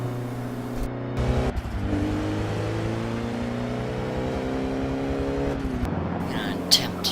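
An animated Lego car's engine drones and revs steadily as it drives, the pitch climbing gradually before dropping, with someone talking over the motor.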